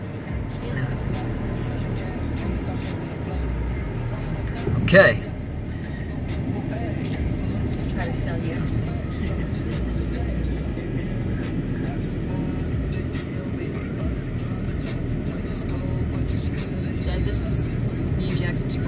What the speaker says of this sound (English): the car is driving on to the bridge